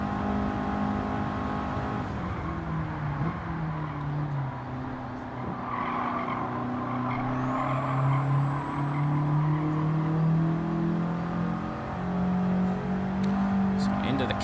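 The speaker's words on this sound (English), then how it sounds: "Probably the most powerful turbo that we've had on a car that we've tested yet." A turbocharged R5 car in Gran Turismo 7 on the Nürburgring roars close and loud, its engine pitch climbing and dipping through gear changes while tires squeal and someone talks over it.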